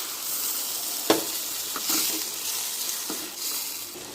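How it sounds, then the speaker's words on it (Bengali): Okra sautés in a pan with a continuous, close hissing sizzle, marked by a few light stirring knocks and scrapes against the pan. "এবার ভেন্ডিগুলো দিয়ে দিলাম, এতে ভালো করে কষিয়ে নেব"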